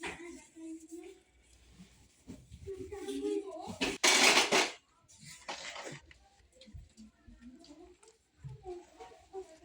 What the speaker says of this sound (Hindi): बर्तन तो मैं ही धोऊंगी।